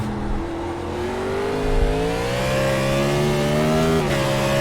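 A NASCAR race car engine in the iRacing sim on the Chicago street circuit, loud and close, holding a steady high drone under throttle with slowly shifting pitch and a brief dip near the end as the driver brakes.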